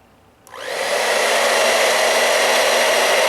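A Conair InfinitiPro 1875W tourmaline ceramic hair dryer switches on at low speed and lowest heat, spinning up quickly into a steady, loud, close airy whoosh that holds evenly.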